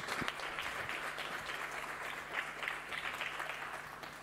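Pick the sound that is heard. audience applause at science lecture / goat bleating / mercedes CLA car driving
audience applause at science lecture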